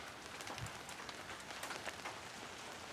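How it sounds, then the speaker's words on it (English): Rain starts falling outdoors at a farm with chickens, a faint, steady patter of drops on surfaces spread evenly throughout. "It is starting to rain."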